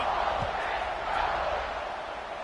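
Stadium crowd noise from an NCAA 26 football video game with Tennessee playing, a steady broad roar at kickoff, loud and continuous without letup.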